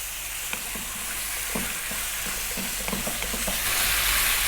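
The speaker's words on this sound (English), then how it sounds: "So we're on quite a lively high heat and we're going to go for about 4 minutes stirring this all the time." Spicy lamb liver frying on a tawa over high heat, a steady loud sizzle with a spoon or spatula scraping and stirring repeatedly through it, alone without any voices.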